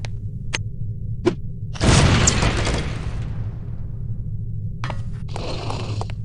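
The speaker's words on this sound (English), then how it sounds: "These relatively inconspicuous-looking lipsticks are actually powerful explosive devices that detonate on impact." A lipstick-shaped explosive device detonates on impact in the spy video game No One Lives Forever: one loud, sharp blast with a rumbling decay over a steady hum, after a few short clicks, and followed by a brief later burst of noise.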